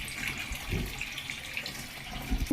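Cold tap water runs steadily into a sink to cool freshly boiled eggs, a continuous close splashing hiss with a few small knocks near the end.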